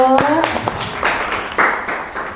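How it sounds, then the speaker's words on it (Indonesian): Brief, patchy applause from listeners at a university teaching session comes in a few short swells, mixed with speaking voices at the start. "Tepuk tangan dulu."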